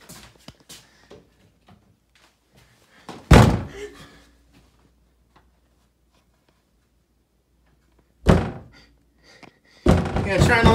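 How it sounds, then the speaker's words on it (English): A door bangs as someone struggles to lock it against an intruder: two loud separate thuds, then a burst of rattling impacts at the end, with quiet stretches between. "Trying to lock the door"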